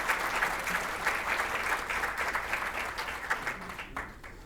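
Audience applause welcoming engineer Alfonso Aguiló to the stage at a leadership lecture in Lima, Peru: a dense, steady crowd of clapping hands, fairly loud and sustained, fading slightly at the end.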